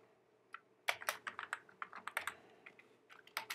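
Java code being typed on a computer keyboard: a close, quiet run of irregular key clicks and taps, with a few louder strikes, under faint room tone and no voice.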